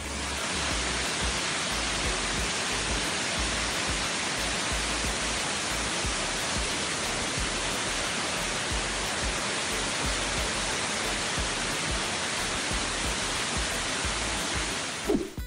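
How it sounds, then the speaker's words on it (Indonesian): Waterfall at Sungai Gabai, Selangor, a steady broadband roar of falling water that stays loud and even throughout, with no talking. "Mari kita saksikan video air terjun ini."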